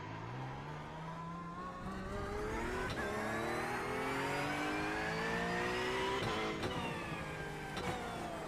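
A race car engine in the iRacing simulator revs with rising harmonic tones that climb steadily, broken by sharp downshift blips, loud and continuous with no talking.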